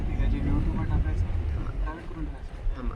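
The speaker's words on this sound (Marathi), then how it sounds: "टॅक्सीने आपण चाललोय आता" Interior rumble of a moving taxi on the road near Gokarna, a steady low engine and road drone running throughout, with people talking over it.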